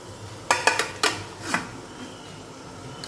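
A metal plate set down over a pot of boiling water for steaming alu leaf vadi, giving a cluster of four or five close, bright clatters in quick succession, then a low steamy hum.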